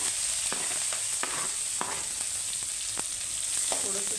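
Finely chopped onion frying in a pan with cumin and mustard seeds for Mumbai-style vada pav, a close, continuous hiss with small crackles and pops scattered throughout.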